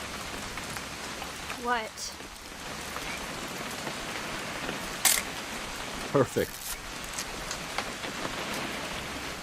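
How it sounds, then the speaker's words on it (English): Steady rain falls in the video game What Remains of Edith Finch, a constant even patter on surfaces throughout, with a couple of brief voices speaking over it. "It's gonna rain the whole weekend, isn't it?"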